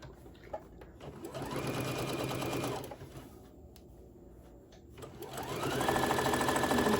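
A sewing machine stitches a tote bag in two steady, close runs separated by a quieter pause, its motor whirring evenly and loudly throughout each run.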